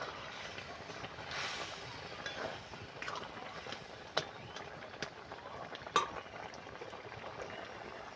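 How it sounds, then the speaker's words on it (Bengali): A taro stem and poppy seed curry simmers in a pan, giving a soft, continuous bubbling with scattered small pops and a few faint clinks, fairly quiet and close. "একটু ফুটতে দিতে হবে আচ্ছা ফুটে গেছে"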